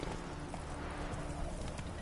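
Hooves of Roach, Geralt's horse in the video game The Witcher 3, clip-clop in a steady galloping rhythm, dense and continuous, with no one talking.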